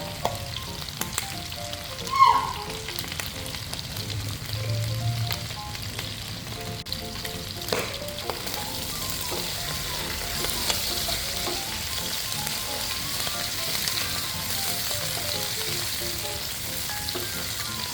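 Pork and chicken pieces fry for an adobo with chili bean sauce, sizzling steadily in a pan while they are stirred around. Scraping and clinking from the stirring rise and fall irregularly over a continuous close hiss.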